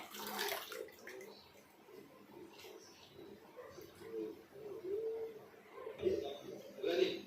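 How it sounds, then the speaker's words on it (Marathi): Water sloshes and splashes in a basin as potatoes are rinsed by hand, close and fairly soft, with gentle intermittent swishes. "हा बटाटा सारखा धुवून घ्यायचा आहे"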